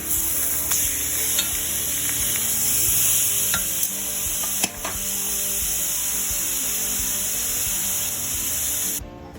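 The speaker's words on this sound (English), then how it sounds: "So we've seared one side really well on high heat." Venison backstrap searing in a cast iron skillet over high heat, a loud continuous sizzle and crackle with a few sharp pops and scrapes, heard alone without talk.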